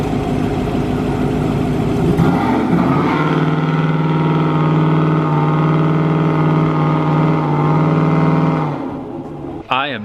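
A Chevrolet Tahoe truck's engine revs loud and steady in a failed burnout attempt, climbing to a sustained high pitch for several seconds before dropping off, with a brief voice near the end.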